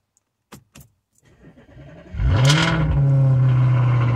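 A few clicks and a brief starter crank, then an Audi engine fires up loudly and settles into a steady, throaty idle close by.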